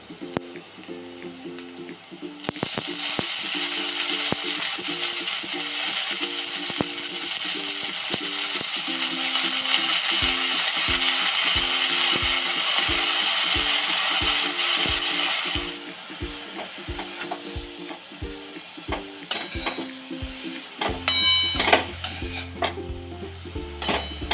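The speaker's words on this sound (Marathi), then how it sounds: "छान भाजी परतली तेलामध्ये." Dill greens (shepu) sautéing in hot oil with plenty of garlic and green chili, a steady loud sizzle for about thirteen seconds, with a spoon stirring and scraping the pan and clinks near the end.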